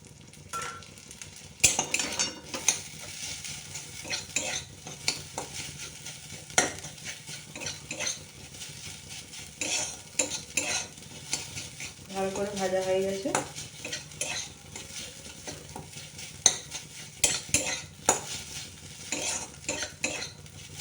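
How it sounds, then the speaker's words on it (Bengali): Vegetables sizzle in a pan while a spatula stirs them, bringing irregular metal scrapes and clinks over a soft frying hiss, with a short electronic beep midway and no talking. "এবার একটু ভালো করে ভেজে নিতে হবে"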